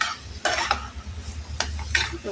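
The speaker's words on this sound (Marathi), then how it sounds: "ती त्यात विरघळून द्यायची, एकत्र करून घेऊया आपण।" A spoon scrapes and stirs sugar into wheat flour sheera in a pan, giving several distinct close scraping strokes over a low sizzling bed, with no talking.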